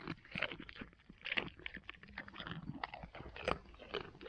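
Close, quiet crunching and chewing of a goat eating, a series of irregular crisp bites and grinding mouth sounds with brief pauses and no talking.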